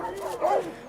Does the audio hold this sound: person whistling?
no